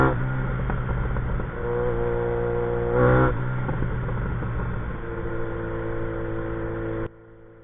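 A motorcycle fitted with a Dominator exhaust runs on a road test, its engine droning steadily with rises in revs and a brief louder burst midway, fairly close and without talk.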